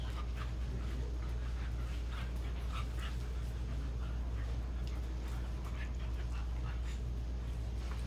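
A dog pants hard and fast during rough play, a steady rasping breath close to the microphone, with faint whimpers and light movement noises mixed in over a constant low hum.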